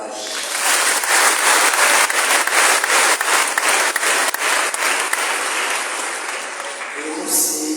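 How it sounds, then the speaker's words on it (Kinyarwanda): A church congregation at Mass applauding to welcome guests: dense, loud clapping from many hands that fills the room, then fades out near the end as a voice begins. "Rero bavukanye bashitsi turabakiriye tubakomera amashyi."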